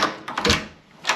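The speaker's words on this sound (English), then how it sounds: "Knock on the door." Knocking on a door as a parts delivery arrives, a few sharp raps in quick succession followed by another after a short pause, close and clear with no talking.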